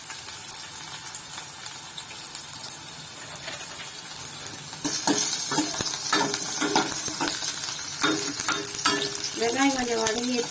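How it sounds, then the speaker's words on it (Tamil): Onions sauté in a pan for a Tamil manathakkali kuzhambu, with a low sizzle that jumps to a louder, crackling fry partway through, along with occasional stirring scrapes and knocks near the end. "வெங்காயம் வதங்கட்டும்."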